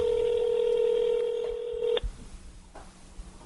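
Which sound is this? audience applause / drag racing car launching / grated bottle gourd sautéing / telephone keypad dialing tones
telephone keypad dialing tones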